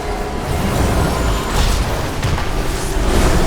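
Deep, loud rumbling blasts of a bomb in the World of Warcraft raid Eternal Palace, Queen Azshara encounter, continuous and heavy across the whole stretch with no clear speech.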